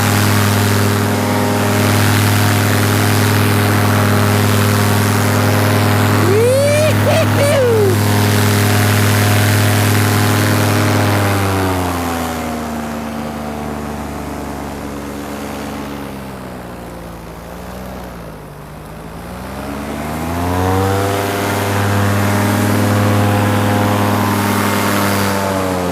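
A paramotor engine and propeller run steadily on the ground before a powered paragliding flight, a loud buzzing drone that throttles down and dips in pitch midway, then rises again toward the end.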